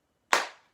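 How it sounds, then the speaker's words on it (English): A single sharp hand clap at a children's family storytime, standing in for the letter B while singing Bingo; one crisp, close, fairly loud smack that decays quickly, with no voices. "we're going to clap our hands for B"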